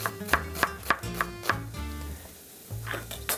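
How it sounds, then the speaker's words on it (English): Peppers and onions being chopped with a knife: a steady run of about six crisp, evenly spaced chops, a short pause, then a couple more. The chopping sits close over a soft tonal background, with no talking. "I'm going to cut up some peppers and onions, get those cooked."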